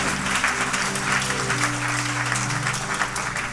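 A church congregation applauds during a French-language sermon on grace, a dense, steady clapping from a crowd that fills the room and holds at an even level throughout.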